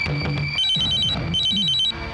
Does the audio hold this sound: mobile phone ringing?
yes